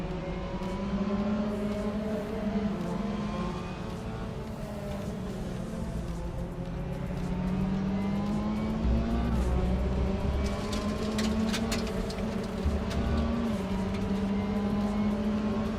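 A Mazda MX-5 engine in a racing video game drones steadily with a muffled tone, its pitch climbing and dropping through gear changes over a long continuous run.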